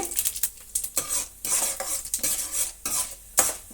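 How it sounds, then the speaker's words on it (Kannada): Mustard seeds, cumin, urad dal and chana dal frying in hot oil for a bottle gourd sambar: a bright crackling sizzle with popping seeds, broken by clattering strokes of a spoon stirring in the pan. "ಉದ್ದಿನಬೇಳೆ ಕಡಲೆಬೇಳೆ ಚೆನ್ನಾಗಿ ಫ್ರೈ ಆಗಲಿ"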